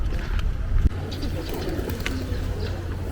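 Pigeons in a park in Penang, Malaysia coo softly in low, rolling murmurs beneath a steady outdoor background.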